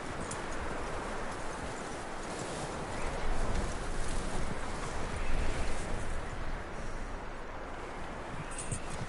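Steady hoofbeats of a horse in a PS4 video game clop along at a walking pace over a constant outdoor ambience, with no voices.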